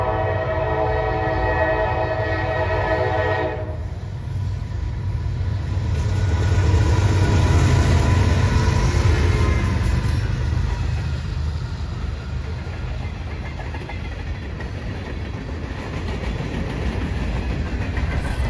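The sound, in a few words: Norfolk Southern freight train NS-119 passing with horn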